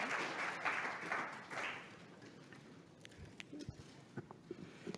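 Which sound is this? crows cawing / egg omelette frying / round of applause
round of applause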